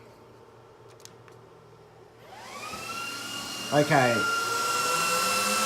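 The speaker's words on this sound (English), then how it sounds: "it's the power supply fans. That's the loudest part of the server" An IBM x3650 M4 server powering on, its power supply fans spinning up from near silence into a loud, rising whine that settles into a steady high-pitched roar, with a brief spoken word near the start.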